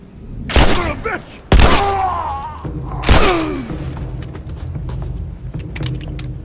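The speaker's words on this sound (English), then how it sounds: "a clip of Remastered's gun combat and gameplay" Gunfire in the video game The Last of Us Remastered, three loud booming shots with ringing tails spaced about a second apart, followed by quieter clatter, footsteps and mechanical clicks.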